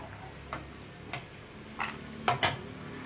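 Fried peanuts are scraped from a pan onto a plate, giving about five short, faint scraping clinks and rattles at irregular intervals, the last two louder and close together.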